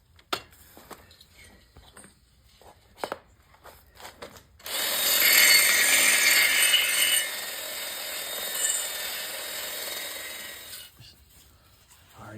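A power tool grinds into the cylinder head of a 1970 VW Beetle engine to check for cracks between the spark plug hole and valve seat. After quiet workshop clatter, a loud, steady, harsh grinding runs for about six seconds, then stops.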